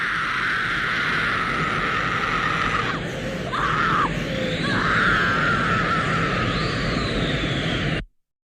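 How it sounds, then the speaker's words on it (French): A male anime character from Evangelion screams in madness in the original Japanese voice, a loud, sustained, strained howl that breaks off and resumes in ragged waves over a constant noisy backdrop. "en VO, le cri, c'est un cri de folie."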